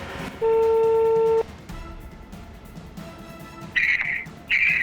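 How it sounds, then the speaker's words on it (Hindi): A phone being dialed to call a mobile number: a steady electronic tone of about a second, then quieter tones and two bursts of a higher-pitched ringing or chirping signal, close and clear with no talk. "नैना शहज़ादी के मोबाइल फ़ोन पे कॉल करते हैं"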